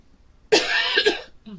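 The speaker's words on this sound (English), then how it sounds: "I still have the stinking cough." A single loud, harsh cough close to the mic, with a brief throaty follow-up.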